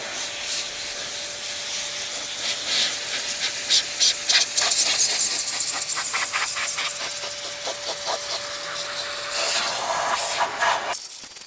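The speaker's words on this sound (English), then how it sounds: "We're gonna get everything in the wheels blown out." An electric air blower hisses steadily while drying a car's wheels and tires during detailing, with a sustained high-pitched rush and pulsing bursts that swell and fade, ending abruptly.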